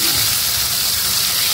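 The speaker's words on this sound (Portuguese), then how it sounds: "Vamos fritar aqui esse alho." Garlic fries in hot fat in a pan, giving off a loud, continuous, close sizzling hiss that stays even throughout, with no voices.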